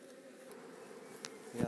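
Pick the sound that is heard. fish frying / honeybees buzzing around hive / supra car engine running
honeybees buzzing around hive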